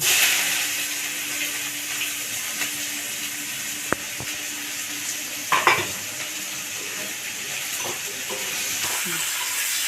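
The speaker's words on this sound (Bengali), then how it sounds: "পেঁয়াজটা এবার একটু লাল করে ভাজবো" Onions fry in hot oil left over from frying fish, with whole spices, a steady close sizzle broken by a few clinks and stirring scrapes.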